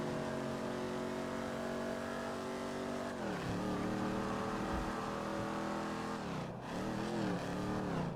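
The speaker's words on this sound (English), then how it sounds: "I'm stopping the car in the median here." A car engine in Grand Theft Auto V drones loud and steady, rising in pitch through the gears with two clear dips as it shifts or slows, and no voices over it.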